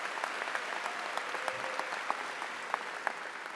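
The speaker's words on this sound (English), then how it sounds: "give them a round of applause for that" A graduation audience at West Forsyth High School claps for the senior class, a fairly quiet and distant patter of many hands with a few louder individual claps scattered through it.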